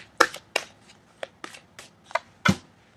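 Tarot cards are shuffled and drawn in a series of about eight crisp, close riffling snaps at an irregular pace, with no one talking.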